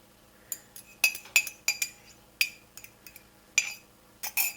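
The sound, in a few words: whisking egg with a fork in a bowl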